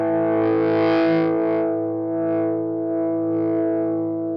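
Sustained distorted electric guitar through a budget Fengzai Dumbloid overdrive pedal, one held chord whose gritty edge swells and eases as the accent knob is turned up and down, loud and alone.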